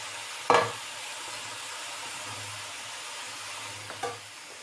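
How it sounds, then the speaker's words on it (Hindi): Cauliflower fries in a pan with a faint, steady sizzle, broken by a sharp clatter of stirring near the start and a lighter knock just before the end. "गोभी को हम अच्छे तरीके से फ्राई करेंगे।"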